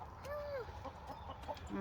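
Chickens and a rooster on a small ranch garden give a few soft, short clucks and chirps close by, scattered over a steady low outdoor rumble with no talking.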